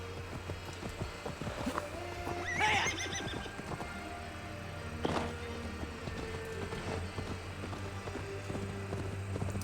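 A horse in Assassin's Creed Valhalla gives a loud, high whinny near the start, with clip-clopping hooves and soft game ambience continuing around it.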